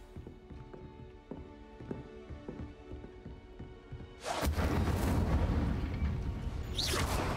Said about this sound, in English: 重伤害咒语可以在近距离内释放出毁灭性的火焰。 Incendio.